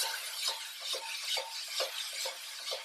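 Beef searing for lomo saltado, tossed in a pan with repeated rhythmic shakes, each a soft scraping swish over a light sizzle, close and fairly quiet with no talking.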